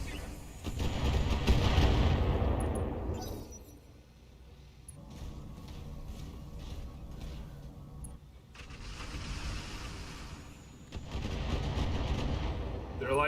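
Artillery firing in a video game, heavy booming blasts in three long rolling waves with rumbling tails between them, loud and close.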